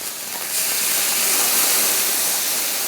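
Spring onions hit a hot pan in a restaurant kitchen after a flambé, setting off a loud, steady broadband sizzle that swells within the first half-second and holds without a break.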